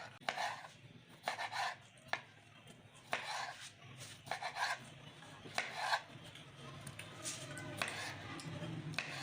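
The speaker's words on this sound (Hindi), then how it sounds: "टमाटर काट लेते हैं।" A knife chops tomatoes on a board in a home kitchen, making a series of irregular, close, crisp cuts with brief pauses between them.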